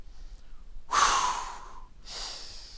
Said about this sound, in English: Exhale up, inhale down.